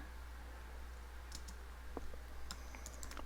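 A computer keyboard is typed on in short, quiet bursts as a word is entered into a software rule editor, with a few soft clicks over a steady low hum.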